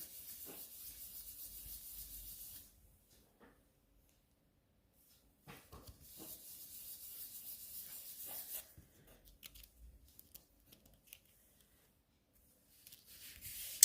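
Hand rubbing a print onto paper, two bursts of soft dry scraping and brushing strokes separated by near-silence, close and quiet, with a few faint taps and handling noises.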